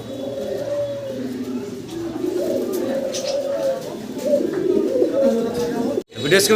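Sirazi pigeons coo in repeated low, throaty rolling calls, close and fairly loud. Voices can be heard alongside the birds.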